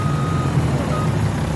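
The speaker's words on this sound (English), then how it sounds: "Here comes Nate pulling in with his truck." Truck reversing beeps sound in Farming Simulator, a loud, steady alarm tone repeating over continuous engine rumble with no talk.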